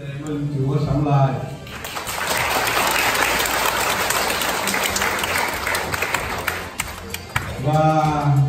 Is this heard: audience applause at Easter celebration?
yes